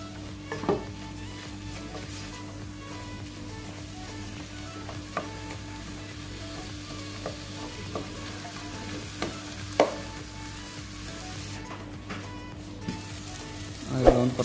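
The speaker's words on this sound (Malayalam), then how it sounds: "നന്നായിട്ട് ആ തക്കാളി ഒന്ന് വേവിച്ച് എടുക്കാം" Tomato sizzles and fries in a pan for a mackerel curry cooked in coconut milk: a soft, steady crackle with occasional stirring clinks and scrapes, close and fairly quiet.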